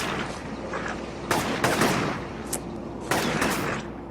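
Gunfire in the inFAMOUS video game sounds as several sharp, crackling bursts of shots over a constant game background hum, moderately loud.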